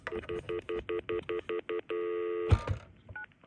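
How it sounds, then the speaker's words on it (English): Rapid series of about nine short touch-tone beeps from a Panasonic KX-TCM422 phone, followed by a longer held tone, a brief clunk, and a couple of fainter tones, all close and clear with no talking. "And now I can dial in and play the test messages I recorded."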